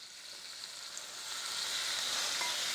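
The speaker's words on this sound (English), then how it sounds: "Make sure you hear that sizzle." Steady, close sizzling of ground beef frying in hot oil, a bright crackling hiss that swells slightly louder toward the end.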